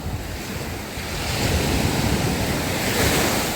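Stormy sea waves roll onto the Odesa shore near Lanzheron, a loud, continuous roar of surf that swells midway, mixed with gusting wind buffeting the microphone, and no voices.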